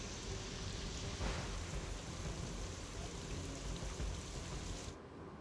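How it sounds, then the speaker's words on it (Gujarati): Heavy, steady rain pours down across the Jabugam, Surkal and Pavijetpur areas of Chhota Udepur district in Gujarat, a dense continuous hiss that stops abruptly near the end. "અહીંયા જબુગામ, સુરકાલ, પાવીજેતપુર વિસ્તારમાં ધોધમાર વરસાદ વરસી રહ્યો છે।"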